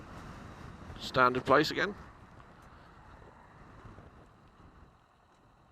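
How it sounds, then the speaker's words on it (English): Wind rushing past a 2017 Kawasaki Vulcan S motorcycle while riding, a steady low roar with a brief voice near the start and then wind noise alone, fading slightly toward the end. "Oh yeah, you can feel that wind."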